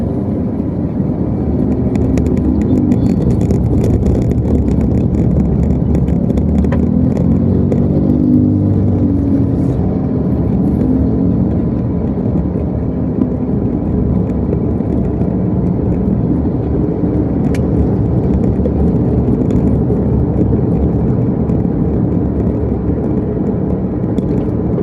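Road and cabin noise from a Wuling Air EV electric car being driven forms a steady low rumble with a faint tyre hiss, unbroken for about twenty-five seconds.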